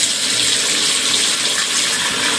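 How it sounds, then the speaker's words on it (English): Water flushed down a drain during a residential sewer inspection, a steady loud gushing rush of running water that continues unbroken, close by and alone. "We'll do a false flush."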